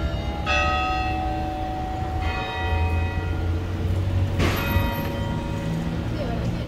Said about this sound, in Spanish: También la campana.